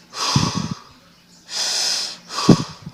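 A person vocally imitates breathing, making three exaggerated, wheezy inhalations of air, close and fairly loud, separated by short pauses.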